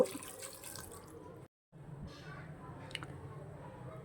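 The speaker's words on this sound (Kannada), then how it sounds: "ನೀರು ಹಾಕ್ತಿದ್ದೀನಿ" Water pours from a tap or vessel into a pot of chopped amaranth-stem greens, toor dal and tomato, a steady close splashing with a brief pause midway and faint voices in the background.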